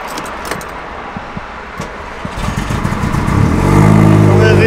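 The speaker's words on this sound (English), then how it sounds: "I'm just going to turn the car on" A car is started nearby, with clicks and faint rattling of keys and switches before the engine catches and settles into a steady, loud idle that fills the rest of the moment.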